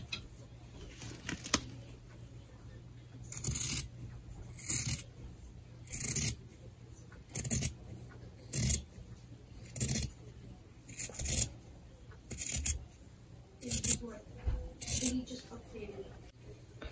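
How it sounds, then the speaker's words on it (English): Scissors snip through face-mask fabric in a repeated series of short, close cuts, roughly one every second, with quiet pauses between them. "You can cut the fabric out."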